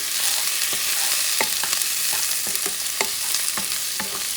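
Peeled shrimp for pancit bihon frying in a pan, a loud dense hiss of sizzling oil broken by quick spatula scrapes and stirring taps, close and without talk.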